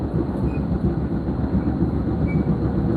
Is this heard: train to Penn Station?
yes